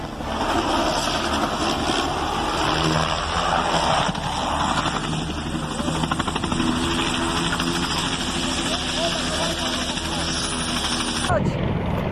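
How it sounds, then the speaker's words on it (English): A helicopter during a failed stunt on a television series set, its engine and rotor drone loud and close throughout, with voices talking over it and an abrupt change near the end. "a stunt failed and the helicopter crashed"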